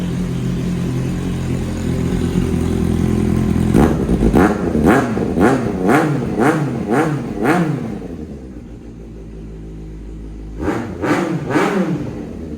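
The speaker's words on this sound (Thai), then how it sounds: "เดี๋ยวมาฟังคลิปสตาร์ทกันนะครับ รอๆนั่นลั่นเลยนะครับ" A 2016 Kawasaki Z800 motorcycle with an aftermarket exhaust idles loudly, then fires off a rapid series of sharp throttle revs, settles back to idle, and blips twice more near the end.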